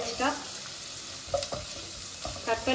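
Onions frying in a pan until they turn brown, with a soft, steady sizzle and a few brief spoon scrapes and taps, close and fairly quiet.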